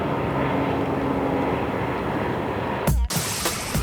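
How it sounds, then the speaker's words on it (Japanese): A 2004 Nissan Fairlady Z Nismo accelerates with a loud, steady intake roar. The roar breaks off briefly near the end, then surges back in. "音がさ吸気音が良くてさ踏むとこう躍動させられるよね。"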